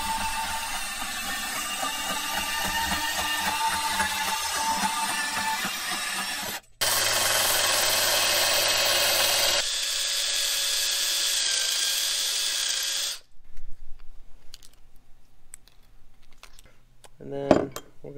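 Abrasive power tool, likely a cutoff wheel, slicing through the tie rod of a BMW E46 drift build in a garage, a loud steady grinding whine lasting several seconds, then cutting out with faint handling clatter afterward.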